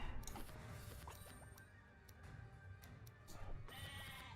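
A goat bleats faintly in the Overdungeon video game, a few short quiet cries over soft clicks and low background game sounds, with no voices.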